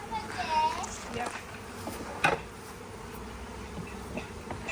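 Honey bees from hives being split hum steadily nearby in a dense continuous drone, with a brief sharp knock partway through and soft background voices.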